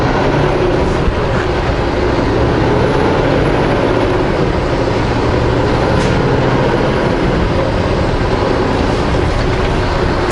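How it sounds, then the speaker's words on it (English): A bus drives over a bridge with a loud, continuous, heavy rumble of engine and road noise that holds steady from start to finish. "The bus is going over."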